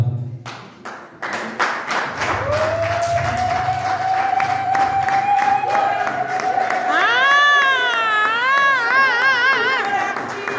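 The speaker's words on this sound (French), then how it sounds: "Je demande à tout le monde de se lever et d'applaudir frénétiquement cette grande dame." A crowd at a memorial tribute claps steadily in a loud, sustained burst that builds over several seconds, with cheers and high voices rising above the clapping and a speaker's voice heard at the start.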